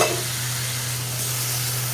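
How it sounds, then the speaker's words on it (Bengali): Onions and spices fry in a pan with a loud, even sizzle that runs without a break, over a low steady hum. "পেঁয়াজ ভাজার সাথে সাথে মশলাগুলো দিয়ে দিলাম"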